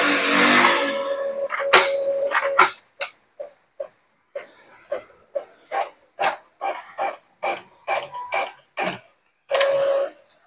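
An Epson L5290 inkjet printer runs with a burst of whirring, then a series of short mechanical clicks and buzzes in a rough rhythm as it feeds and prints a page.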